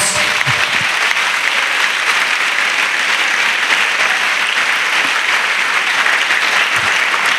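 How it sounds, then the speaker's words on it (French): A church congregation claps for God in dense, sustained applause, loud and continuous throughout without a break. "Let's clap for God."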